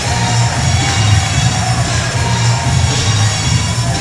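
Crowd noise filling a gym before a college volleyball match, a loud, dense, continuous murmur of many voices with rock music playing, steady throughout.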